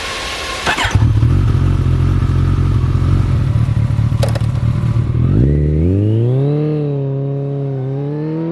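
A Kawasaki ZZR1400 / ZX-14R motorcycle engine idles loudly up close with a clatter. About halfway through, the revs climb smoothly and the engine settles into a higher, rising whine.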